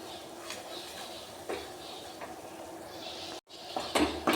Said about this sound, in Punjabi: ਆਟੇ ਨੂੰ ਘਿਓ ਵਿੱਚ ਉਦੋਂ ਤੱਕ ਭੁੰਨਣਾ ਜਦੋਂ ਤੱਕ ਇਸ ਦਾ ਕਲਰ ਚੇਂਜ ਨਹੀਂ ਹੋ ਜਾਂਦਾ